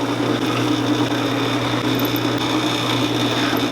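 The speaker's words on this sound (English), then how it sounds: "I'm going to drill a 1/8 inch hole all the way through at each one" Drill boring a 1/8 inch hole through a guitar fretboard, a steady high motor whine with grinding bit noise, constant and close for the whole stretch.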